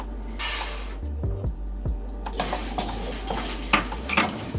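Toor dal with a pinch of hing stirred in hot oil in a pan: a brief sizzling hiss, then scraping and clinking of a spoon against the metal pan with continuous frying crackle, close and moderately loud.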